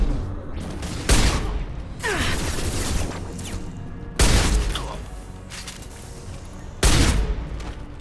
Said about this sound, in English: When you got people shooting at you, you really shouldn't turn your back.